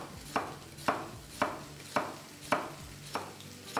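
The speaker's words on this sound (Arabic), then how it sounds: "نشوف دلوقتي نعمل البصلة المفرومة اللي احنا هنضيفها على الخضار" Onion being finely chopped on a board: steady, evenly spaced knife strikes, about seven in a row at roughly half-second intervals, close and crisp with no talk.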